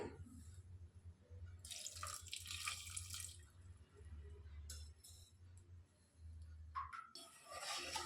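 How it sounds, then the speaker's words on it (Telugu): Water poured into a vessel holding jaggery to make syrup for sesame ariselu, splashing in several bursts with pauses between them and a clink or two of the vessel, close and fairly quiet, over a low background hum. "పాకం కోసం బెల్లం వేసేసుకొని గిన్నెలోనికి కొద్దిగా వాటర్ పోసుకోవాలి"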